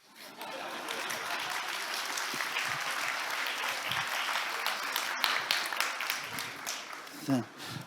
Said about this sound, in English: you got to give me a round of applause